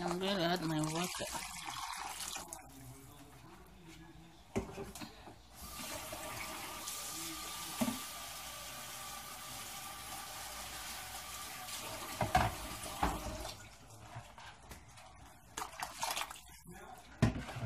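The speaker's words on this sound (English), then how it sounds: "And I'm going to add my water." Water pours and splashes steadily into a cooking pot for light soup, a long soft rushing flow with a few clinks, fairly quiet and close.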